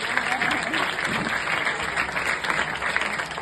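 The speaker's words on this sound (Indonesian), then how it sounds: "beri tepuk tangan yang meriah" Loud, dense applause from an audience for the participants at an Islamic religious gathering, steady clapping filling the whole stretch with some voices mixed in.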